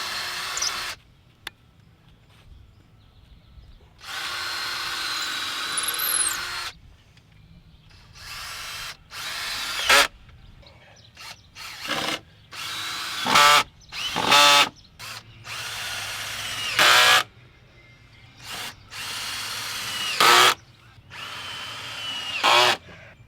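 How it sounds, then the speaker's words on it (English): Repeated short bursts of a power drill whirring as it pre-drills holes in old pallet wood, each lasting a second or two with pauses between, close and fairly loud. "then just pre-drill your holes"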